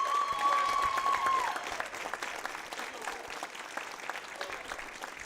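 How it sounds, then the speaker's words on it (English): An audience applauds senior Coy Ostermick at an evening event, dense clapping that starts strong, carries a brief whistle-like tone early on, then eases to a thinner, steady patter. "giving a round of applause for senior Coy"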